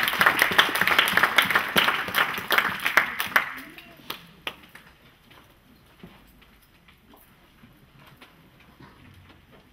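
A church congregation bursts into loud, rhythmic clapping during a French-language sermon. The applause fades out after about four seconds, leaving near-quiet with scattered faint taps.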